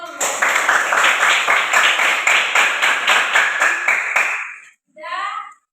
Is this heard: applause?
yes